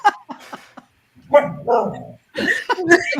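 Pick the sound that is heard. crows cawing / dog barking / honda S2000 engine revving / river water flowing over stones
dog barking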